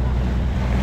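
Motorized outrigger boat gliding over water with its engine running, a loud steady rumble of engine and rushing water with wind buffeting the microphone, continuous and close.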